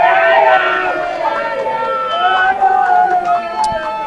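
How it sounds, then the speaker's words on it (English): Darts match crowd in full voice, loud sustained chanting and singing from a packed hall, with rising and falling massed voices and occasional whistles carrying throughout. "The crowd's gone absolutely mental."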